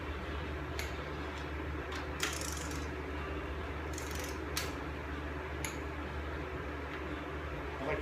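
A torque wrench tightens head bolts during an engine build on a 408 Cleveland. Faint, scattered metallic clicks and ticks sit over a steady, low background hum.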